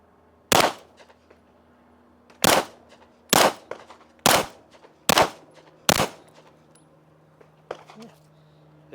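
Six sharp, loud gunshots from a Glock pistol fitted with a Trigger Tech ACE trigger crack out at an uneven pace at an outdoor range, with brief pauses between shots and faint quieter sounds after.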